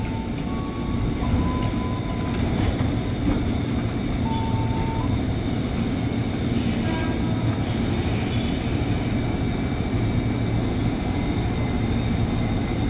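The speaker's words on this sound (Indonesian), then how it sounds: "Jalur 2 masuk ke tren tujuan Bogor rangkaian 12 kereta." A twelve-car KRL commuter train pulls into a station platform near Bogor: a steady, loud rumble of rolling wheels with brief high wheel squeals early on, continuing throughout without speech.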